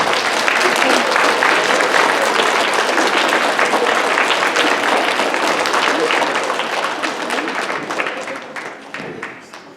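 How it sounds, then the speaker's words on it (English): Children in a songwriting concert audience applaud their parents, a loud, dense burst of clapping that fills the room and slowly fades toward the end. "Kids, how about a round of applause for your great parents?"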